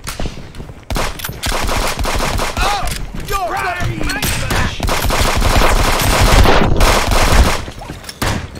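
Rifle fire in a multiplayer shooter game, loud rapid bursts of shots rattling almost continuously with brief gaps, under occasional voices and other game effects.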